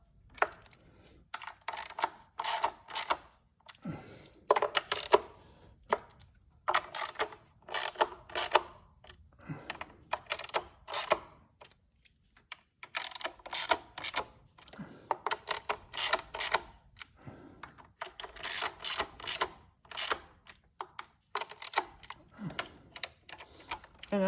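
Wrench tightening bolts in a crisscross sequence, likely a head-bolt tightening order worked from the middle outward, with bursts of sharp ratcheting clicks in repeated clusters separated by short pauses, close and fairly quiet with no talk.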